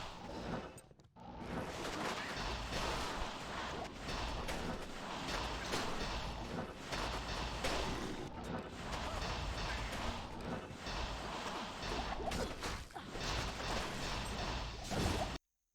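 Cold sorceress spells from a Frost Nova build in Diablo 2 gameplay, a dense, continuous wash of icy whooshes, crashes and impacts layered over game music, loud and busy throughout with a brief dip near the start.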